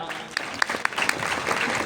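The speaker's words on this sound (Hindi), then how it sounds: "सभी के सम्मान में एक बार तहे दिल से जोरदार तालियां" Hearty applause from an audience at a motivational network-marketing gathering honoring star and card-holder members, a steady patter of clapping with a few sharper claps standing out, running throughout.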